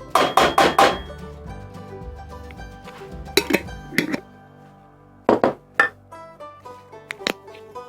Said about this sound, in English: Get that lid on there